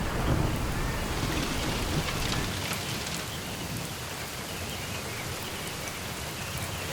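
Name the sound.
rain in the Eastern Ghats hills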